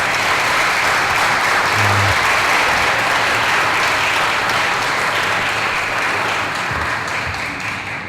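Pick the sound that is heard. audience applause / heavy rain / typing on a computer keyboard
audience applause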